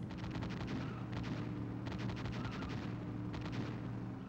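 Rapid bursts of gunfire serving as the car horn in the arcade racing game Cruis'n World, loud crackling volleys repeating over constant engine and game noise.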